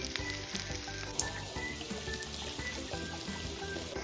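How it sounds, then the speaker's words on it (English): Mushrooms fry in butter in a pot for a beef stew, giving off a steady close sizzle with fine crackles and pops, unbroken by talk. "We'll be frying our mushrooms in some butter."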